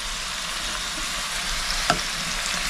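Food sizzling steadily as it roasts in a home kitchen pan, turned over at intervals, with a brief scrape or clink of the utensil partway through; no talking.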